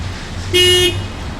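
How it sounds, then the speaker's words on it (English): A single short car horn honk, bright and steady for about a third of a second, over a low background hum of traffic on a rainy Toronto street. "Honk honk."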